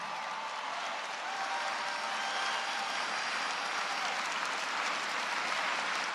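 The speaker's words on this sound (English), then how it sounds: "Give him applause" Rally crowd at a Donald Trump speech in Des Moines, Iowa, claps continuously in a dense, even roar of applause heard from a distance, with no voices standing out.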